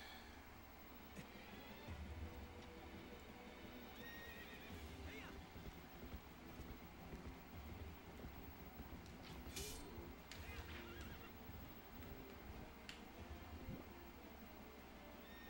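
Horse neighing and whinnying with clip-clop hooves in the video game Zelda Twilight Princess, several sharp calls over a busy game soundscape, with faint talk now and then.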